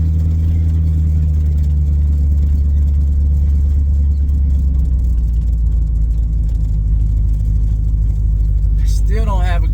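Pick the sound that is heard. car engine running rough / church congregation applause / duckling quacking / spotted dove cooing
car engine running rough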